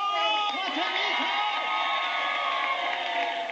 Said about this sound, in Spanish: ¡Aplauso para Platanito!